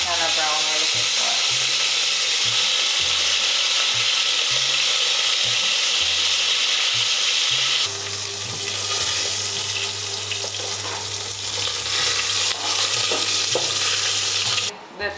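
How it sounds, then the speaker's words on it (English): Oxtail sears in batches in a pressure cooker, giving a loud, steady sizzle and hiss that runs unbroken throughout, with a busy kitchen rumble underneath. "So now we're gonna sear off our oxtail."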